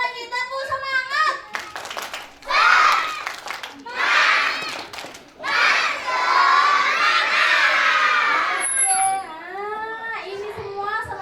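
Children at a school graduation performance shout a spirited cheer in loud, repeated group bursts with clapping, separated by short pauses and an adult voice speaking between them.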